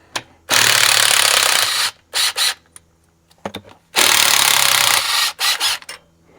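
Power drill working on a 1985 Kenworth cabover truck during an injector change and valve adjustment, loud grinding bursts, two long runs and several short stuttering pulses separated by pauses, close by.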